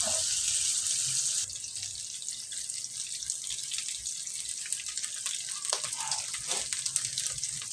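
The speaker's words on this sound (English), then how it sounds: "we've drained the grease into the cup" Hot grease from cooked ground beef pours from a pan into a cup, giving a steady, close liquid trickle and splash with faint clinks, no talking.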